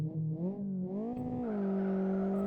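Tofaş car in the Live for Speed racing game, its engine tone climbing through revs, dipping briefly at gear changes and then holding a steady buzzing drone, loud and alone.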